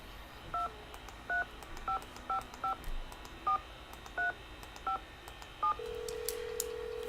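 A phone number is keyed in during the Nancy Drew video game The Final Scene: about ten short, evenly spaced touch-tone beeps, followed by a steady ringback tone, with no talking.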